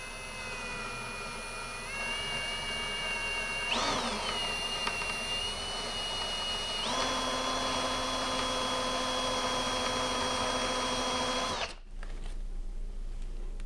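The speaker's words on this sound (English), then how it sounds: "So we're gonna have to drill all new holes." A power drill bores new holes through a shelf while an over-the-range microwave is being installed, a loud steady whine that shifts pitch a few times as the load changes before cutting off abruptly near the end.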